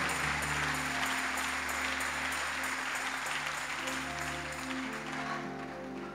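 A church congregation claps for God during a sermon, a dense, steady wash of applause over sustained tones from music playing underneath, holding strong throughout.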